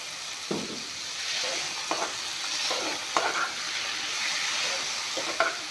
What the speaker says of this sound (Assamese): এতিয়া খাৰ দিলোঁ যিহেতুকে অলপমান ভাজি ল'ম